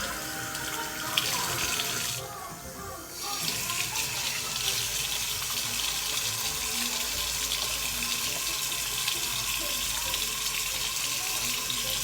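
Tap water runs steadily from a bathroom faucet into a sink, close and fairly loud, with a brief change in the flow early on as hands go under the stream.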